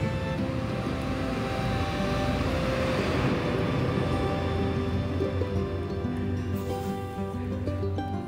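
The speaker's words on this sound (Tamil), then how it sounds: "ஒரே செம்ம நாய்ஸ் இருக்கும் இந்த இன்ஜின் ரன் ஆகுறப்போ." Aircraft engine running while parked on the ground, a steady, dense broadband roar with a constant whine layered on top, loud and unbroken for about eight seconds.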